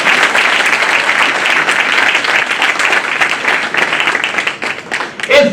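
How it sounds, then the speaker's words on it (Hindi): An audience at a bar council enrollment event applauds in steady, dense clapping that holds loud and even for several seconds before thinning near the end. "बार काउंसिल के लिए ताली बजाओ"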